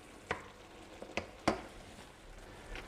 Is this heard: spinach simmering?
yes